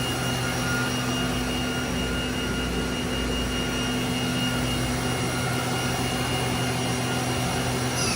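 A 2010 Mazak Nexus 510C CNC machining center spindle spins at 7,500 RPM, giving a steady high-pitched whine with strong sustained tones over a constant mechanical hum, loud and unbroken throughout.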